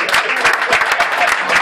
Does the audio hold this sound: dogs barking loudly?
no